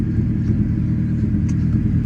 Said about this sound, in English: This is actually the exhaust off the race car too.